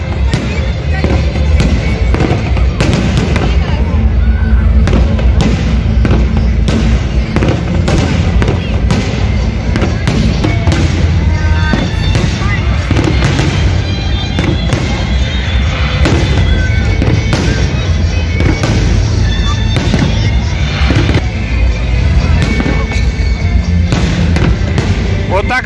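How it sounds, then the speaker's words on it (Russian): A long, continuous city-day fireworks barrage in Stupino, Russia: dense cracks, booms and rumbling thuds overlapping without pause, loud and booming, with crowd noise underneath. "Заканчивается торжественно салют в городе Ступин."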